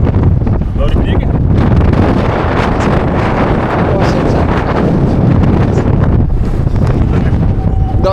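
Strong wind roars and buffets the microphone outdoors on a trip toward Antarctica, a loud, constant blustery rush with voices faintly caught underneath.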